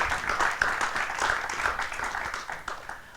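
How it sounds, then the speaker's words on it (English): A crowd applauding, a dense, steady patter of many hands clapping throughout, moderately loud. "Could we get an applause?"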